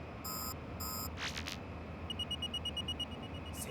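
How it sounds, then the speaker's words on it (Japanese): A proximity alarm beeps inside a mobile suit cockpit, two pairs of short high electronic tones followed by a rapid run of quieter beeps, over a low engine hum and brief hissing bursts, with no talking. "接近警報"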